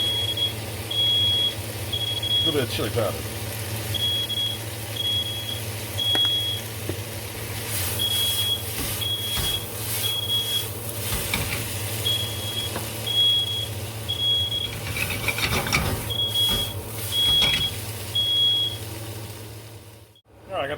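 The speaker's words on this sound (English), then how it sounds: "this will set your fire alarm off" A smoke alarm beeps in repeated short, evenly spaced bursts while green chili grilled cheese cooks, a steady high chirping that runs for nearly the whole stretch over kitchen clatter and a low hum, with a voice talking now and then.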